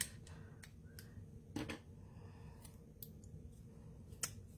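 Scissors cutting paper in half during a paper-flower bouquet craft, heard as a few faint, crisp snips spaced apart over a quiet room background.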